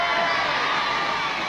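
An outdoor audience at a 1981 It's a Knockout contest between Dunfermline, Cumbernauld and Glenrothes breaks into a dense, continuous roar of applause and cheering, loud and uniform throughout the short stretch.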